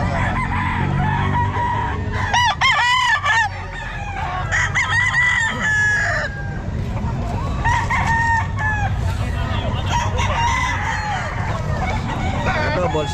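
Roosters at a busy pet market crow repeatedly, including a young stag, with loud cock-a-doodle calls and clucking over a constant crowd and market din.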